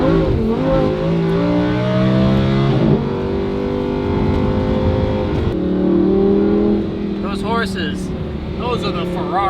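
A Lamborghini LP610-4 with factory catalytic converters revs hard, its engine note climbing and falling in loud, sustained sweeps while people talk over it.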